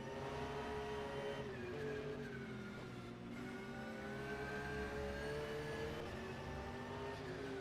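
A Porsche 911 race car at the Nürburgring 24 Hours holds a loud, steady engine note. The pitch sweeps up and down through the gears and never lets up across the lap.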